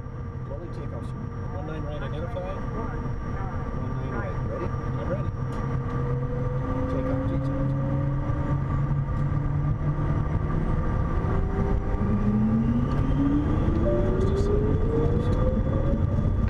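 Bombardier Challenger 350 jet engines during a rolling takeoff: a loud, steady roar with tones rising slowly in pitch as power comes up, heard continuously throughout.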